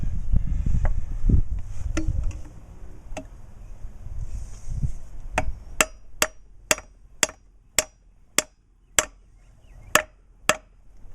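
Seal replacement on a Volvo Penta prop: a few scattered knocks, then a steady run of sharp hammer blows, about two per second, ringing close and clear with quiet between strikes.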